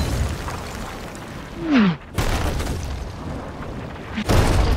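Cannon fire in the pirate video game Sea of Thieves, two loud booming blasts a couple of seconds apart with a brief whooshing sweep between them amid ongoing game noise.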